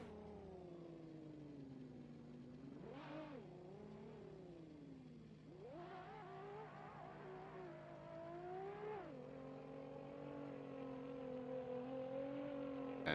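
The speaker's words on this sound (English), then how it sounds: "Oh, I hear his car." Hayden Winter's R33 Nissan Skyline revving at a drift event at Wall Stadium, with several rising and falling engine pulls at medium distance before a steady, building drone.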